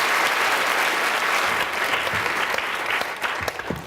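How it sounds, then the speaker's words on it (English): An indoor lecture audience applauds warmly, a dense, even burst of clapping that holds steady and then starts to thin out toward the end. "Let's give them a round of applause."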